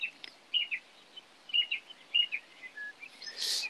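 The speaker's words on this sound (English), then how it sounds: "It's the birds." Birds singing outdoors: several short, bright chirps and whistled phrases come in separate bursts with brief pauses between them, fairly faint against a quiet background, with no talking.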